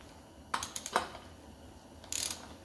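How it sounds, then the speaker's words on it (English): Torque wrench ratcheting on a wheel bearing bolt of a VW MK4, a few quick clicking ratchet strokes close by, then a brief brighter burst of clicks, otherwise quiet. "Now we're going to torque it to 37 foot-pounds."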